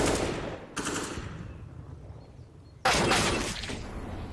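USP pistol gunfire in a Counter-Strike match on the Inferno map, heard as two sharp, loud shot bursts separated by a quieter gap, each trailing off with a ringing decay.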